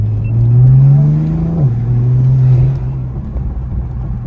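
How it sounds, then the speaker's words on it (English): A BMW M4 engine with a newly installed front mount intake idles and revs close by, a steady mid-pitched drone that climbs then drops slightly and settles, with no talking. "let's hear the car"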